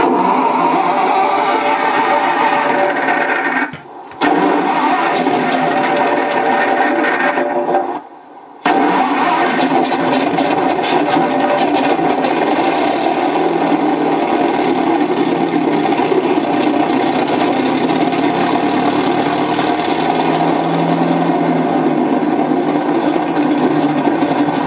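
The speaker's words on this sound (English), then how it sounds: "And then to start the engine." Recorded car engine start effect played back from a DIY sound board: a loud, continuous engine rumble that runs the whole time, broken only by two brief dropouts early on, then settling into a steady idle.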